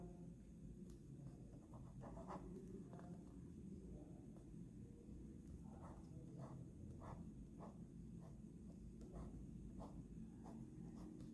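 A teacher writes a question on the board during a maths lecture. Faint, rhythmic scratches and taps from the writing repeat steadily against a constant background hiss.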